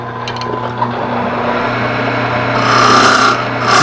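Bowl gouge cutting a wooden bowl on a lathe during shape refining: a steady rasping, scraping cut over the constant low hum of the spinning machine, growing a little brighter and louder toward the end, close up with no talk.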